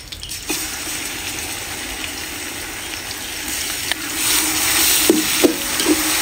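Ginger garlic paste sizzling as it fries with onions in hot oil for kari pala biryani, a steady loud hiss throughout with a few soft stirring knocks near the end.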